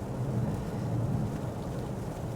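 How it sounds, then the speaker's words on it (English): Steady rain and wind-driven wash during a drive in a new Renault Captur small crossover on empty rural roads, a dense continuous hiss with low rumble throughout, no voices. "There's rain dripping off my camera from the start of this review."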